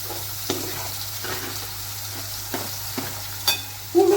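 Large chopped onions frying in hot oil in a pan for squid thokku, a soft steady sizzle broken by several scraping stirs of a spoon, close and quiet with no talking.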